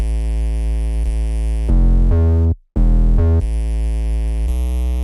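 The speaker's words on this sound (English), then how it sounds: "this is the Evangelic 808" Evangelic 808 sub bass from FL Studio playing a steady, deep sustained tone with rich harmonics, changing pitch midway, briefly cutting out and then resuming, loud and alone with no voices.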